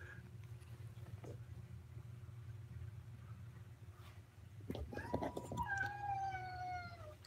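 An Alabama kitten gives a drawn-out, rising meow near the end, after a stretch of low background hum with a faint earlier cry.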